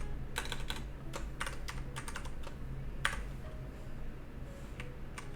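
Typing on a worn, faulty computer keyboard during a coding lesson, with irregular bursts of crisp key clicks, close and clear over a quiet hum.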